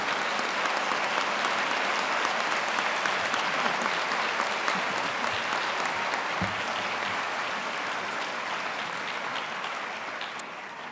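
An audience applauds the graduating 2019 optometry cohort at a university ceremony, a dense sustained wash of clapping from many hands that continues throughout and eases slightly near the end.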